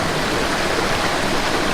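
Clear water flows briskly along a wilderness stream, making a constant, loud, close rushing hiss with no breaks and no voices.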